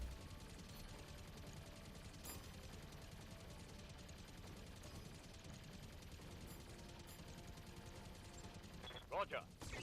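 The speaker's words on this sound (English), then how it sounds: "Missiles on the vehicle." Missile volleys fired at a vehicle in the BattleTech 3062 mech combat game, a continuous dense rumble of launches and impacts throughout, with a brighter burst of hits near the end.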